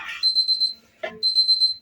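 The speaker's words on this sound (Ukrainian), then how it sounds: "Сигналізатор не перестає пікати" Two short bursts of high-pitched rapid electronic beeping from an alarm signaler while making Gouda cheese, separated by a brief clattering noise.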